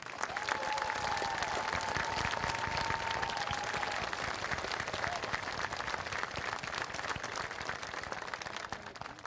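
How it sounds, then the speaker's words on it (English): A high school commencement crowd applauds the graduating cum laude, magna cum laude and summa cum laude seniors, sustained even clapping that carries on for the whole stretch and only thins a little at the close. "I love for all of our seniors who earned cum laude, magna cum laude, and summa cum laude to stand up to be recognized with a round of applause"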